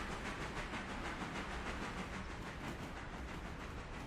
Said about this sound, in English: And there goes the old passenger train whizzing on by.